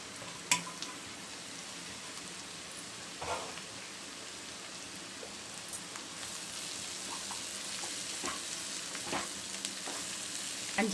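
Bitter gourd and onion sauté in a hot pan: a steady, close sizzle runs throughout, broken by occasional clicks and scrapes of stirring, with no voices.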